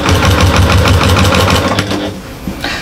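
A sewing machine with a walking foot runs fast through layers of outer and lining fabric on a bag, a steady close mechanical chatter of rapid stitches that slows and stops near the end.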